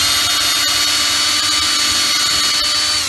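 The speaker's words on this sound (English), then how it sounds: "So I just lay it down flat and then come in with the drill." A loud, steady high-pitched whine of a power drill drilling out a rivet on a Ranger Z21 boat deck lid runs continuously, close by, with a faint grinding edge and no talking.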